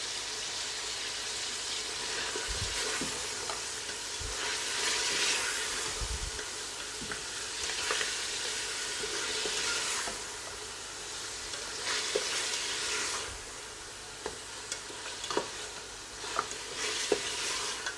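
Ginger garlic paste being stirred into lamb karahi in a pan, a steady oily sizzle with occasional spoon scrapes and knocks against the metal, close and continuous with no talking.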